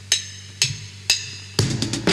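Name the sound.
original drum break from a song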